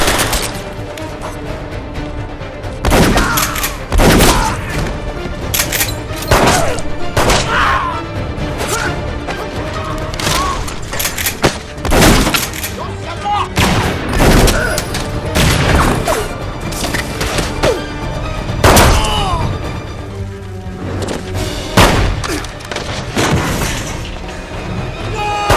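Loud bursts of gunfire crack repeatedly over a tense background score, with sharp shots and impacts in irregular clusters throughout a chaotic shootout.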